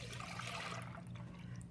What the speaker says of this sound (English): We're going to pour in 4 cups of milk.